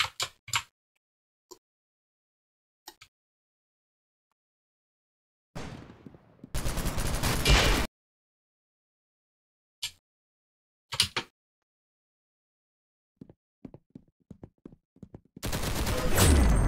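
Bursts of gunfire from the Roblox shooter game Arsenal, with scattered single shots and short volleys plus two longer sustained automatic-fire stretches, loud and close with quiet gaps between.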